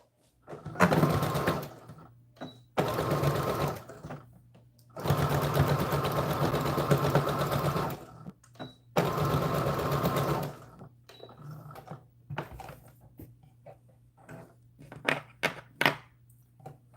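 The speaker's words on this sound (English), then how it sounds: "to seal off the seam so it doesn't ravel, I'm going to go forward and then reverse" A sewing machine sews a seam forward and then in reverse to lock it, giving four close, loud whirring bursts of a few seconds each with short pauses between, then scattered clicks and taps.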